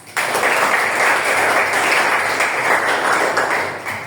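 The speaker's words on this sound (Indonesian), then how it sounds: "Give applause for us." Audience applause during a classroom presentation: loud, even clapping starts abruptly and holds steady for a few seconds before tapering slightly at the end.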